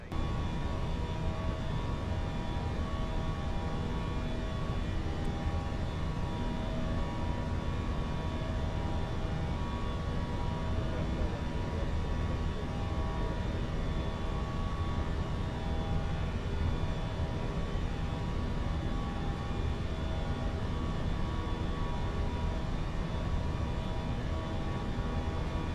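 An airliner's engines drone steadily in flight in Microsoft Flight Simulator 2024, a constant broadband hum with faint tonal whine and no voices.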